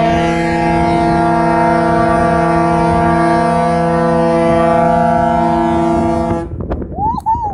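A BC Ferries ship sounds its horn, a deep, very loud, steady blast held for over six seconds very close by, then cutting off to a brief rumble and a faint sweeping tone.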